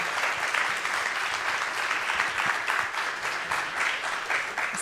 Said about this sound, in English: the room wants to applaud